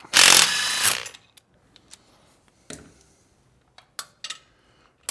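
A 12mm socket and ratchet work loose the exhaust nuts on a 2024 Triumph Bonneville Bobber, with a burst of fast ratcheting followed by scattered metallic clicks and clinks of the nuts and tool, close and sparse.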